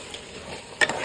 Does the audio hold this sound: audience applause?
no